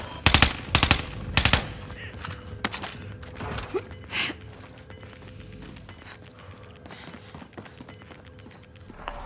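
Gunfire in Call of Duty: Modern Warfare, with a cluster of loud, sharp bursts in the first two seconds, then scattered single shots and distant pops over a low in-game background.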